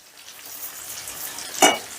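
Fried onions sauté with chili powder and sugar in hot oil, giving a steady close sizzle with a sharp clatter of stirring near the end, without speech.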